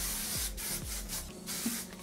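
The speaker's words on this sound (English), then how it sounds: "I'll hairspray back through." Moroccanoil strong hairspray hisses from an aerosol can onto curled short hair in several short close bursts, with brief pauses between sprays.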